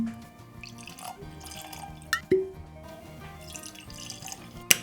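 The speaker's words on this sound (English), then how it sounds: "So let's get some glasses pouring." Single malt Scotch whisky, Springbank 10 and Ardnamurchan AD, trickles and drips into glasses with a few sharp glassy clinks, over a steady tonal background hum.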